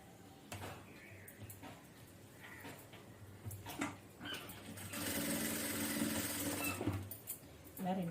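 A sewing machine stitches a blouse, with short bursts of fast mechanical whirring and a longer sustained run near the end. A voice speaks between the bursts.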